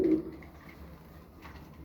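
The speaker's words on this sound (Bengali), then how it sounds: "কোকা কবুতর এমনি খুব ভয় পায় কোকা কবুতরটা" Domestic pigeons kept in a rooftop loft, a single soft low coo at the start, close by, then quiet rustling background.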